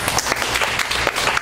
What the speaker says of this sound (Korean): 박수 치셔야죠.